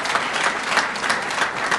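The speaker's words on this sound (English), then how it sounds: "Let's give all of the honorees a big round of applause" An audience at a launch ceremony in New York City applauds honorees with loud, dense, continuous clapping that stays even throughout.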